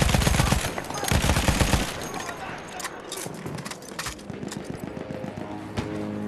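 A Lewis gun fires in Battlefield 1, with rapid loud bursts of automatic fire early on, followed by scattered shots and clatter as gameplay continues, and a voice talks over the action.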